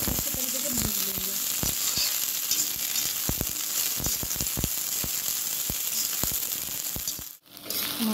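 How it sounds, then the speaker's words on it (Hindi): Okra (bhindi) frying in hot oil, a loud continuous sizzle broken by sharp clicks and taps of a spoon against the pan, close up, with a brief dip near the end and no talking. "अब इसमें हम करेंगे भिंडी फ्राई। अब इसमें पांच मिनट अच्छे तरीके से भून लेंगे।"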